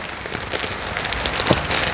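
Rain falling steadily in a rural setting, a continuous soft hiss of drops with a few louder patters, heard alone without voices.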